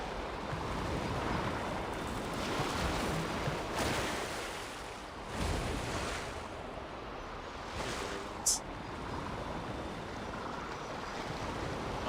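Ocean waves in Genshin Impact wash and rush continuously, with wind-like noise and a few swelling surges, loud and broad throughout.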